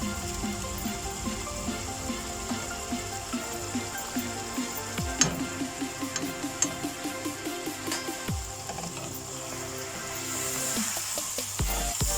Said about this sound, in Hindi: अब इसमें डालेंगे दही, 2 टेबलस्पून दही चले जाएगा।